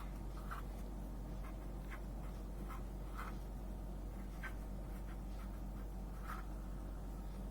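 Pen writing on paper during a math lesson: faint, scattered scratchy strokes and taps at an irregular pace over a steady low hum.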